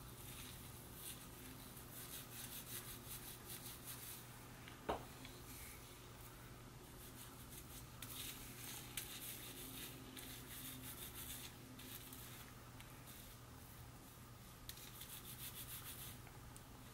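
Hands rub and massage shampoo into a scalp in a steady, soft, close-up rubbing and lathering sound, quiet and continuous with a few small taps and no speech.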